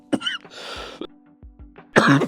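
A person with a fever coughs several times in short, harsh bursts, close and loud, with brief quiet gaps between them.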